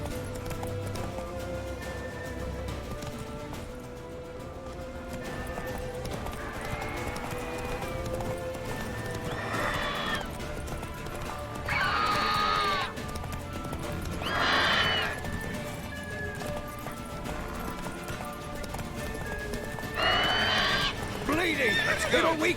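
Roach, the horse in The Witcher 3 game, whinnies and gallops with rhythmic hoofbeats amid continuous game music and combat noise, with brief shouted voices in the mix.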